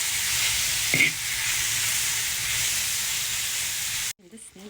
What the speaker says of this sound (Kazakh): Қазір қазанға ең алдымен майын қуырып аламыз.